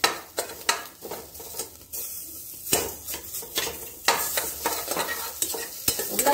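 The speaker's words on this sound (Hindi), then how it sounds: "हाँ अब ये पपीता डालने जा रहे हैं। देखिए उबला हुआ पपीता है ये" Boiled papaya being stirred into garlic and green chilli frying in a pan, with irregular scraping spoon strokes against the metal over a steady close sizzle.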